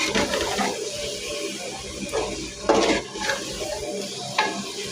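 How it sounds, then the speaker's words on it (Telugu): Rice is stirred into a pot for chicken biryani, with scraping and clinking of a spoon against metal, sizzling underneath and a few sharper knocks standing out. "బియ్యం వేసేసుకున్నాక ఒకసారి మొత్తం అన్నీ కలుపుకోవాలి ఇవన్నీ బాగా కలిపేలాగా కలుపుకోవాలి"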